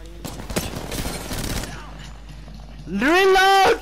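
G7 Scout rifle gunfire in a video game, a quick burst of loud close shots crackling through the first moments, followed by a pause and then an excited voice shouting over the game.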